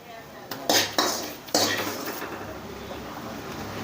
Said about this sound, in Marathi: आता मी एका प्लेटमध्ये काढून घेते